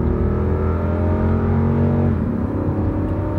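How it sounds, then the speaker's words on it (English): A big, heavy vehicle's V8 engine pulls away from a stop on a country road, a loud, deep, steady drone rising in pitch and then dropping briefly at a gear shift. "Got that V8 sound"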